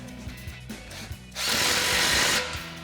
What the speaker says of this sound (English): we'll grab our 15 mil socket and snug down our inlet clamp